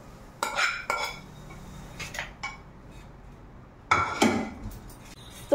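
Ceramic plates and cutlery clatter as a plate is set down in a home kitchen, a few separate clinks and knocks close by, with quiet gaps between the bursts of contact.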